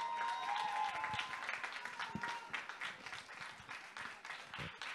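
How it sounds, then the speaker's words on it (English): Applause from an audience at a Miss Jamaica World grand coronation pageant, a dense wash of clapping lasting the whole stretch, loud at first and then easing slightly, with scattered louder claps. "Keep the applause going."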